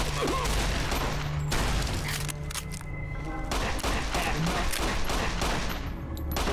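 Bursts of gunfire in Fallout boom in rapid succession, several loud shots and clattering reports close by, with brief gaps between the volleys.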